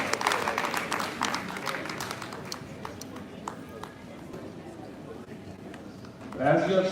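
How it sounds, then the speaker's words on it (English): Applause at a women's health day event fades from a lively burst of clapping into thinner scattered claps, with a voice and a brief musical sound rising at the end. "A big round of applause for Amaya"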